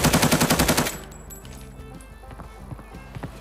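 A new weapon fires in Arena Breakout as a rapid burst of automatic shots in the first second, then gives way to quieter clatter, footsteps and scattered game effects.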